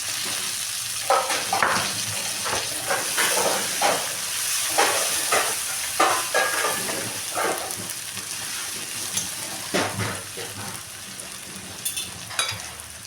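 Small halved onions frying in oil in a pan for a katla fish curry, a continuous close sizzle broken by repeated stirring scrapes and clatters throughout.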